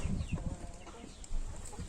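A rooster of a Turkish breed gives low, rapid clucks near at hand, several short bursts in quick succession against steady background bird chatter.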